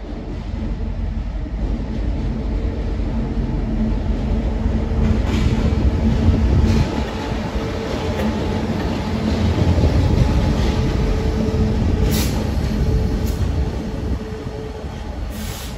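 A RENFE class 319 diesel locomotive hauls a freight train past, a loud steady rumble of rolling wagons and engine that holds through the whole stretch, with brief bright wheel squeals near the end.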